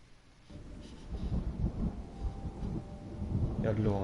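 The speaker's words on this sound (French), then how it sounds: "Il y a de l'orage" Rumbling thunder of a thunderstorm rolls through in low swelling waves, fairly quiet and distant, with some voice-like sound near the end.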